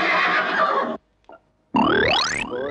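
A horse neighs in a Tamil comedy film scene, a loud whinny that breaks off into a brief pause with a faint sound, then a second rising, shrill whinny follows, close and clear with no talking.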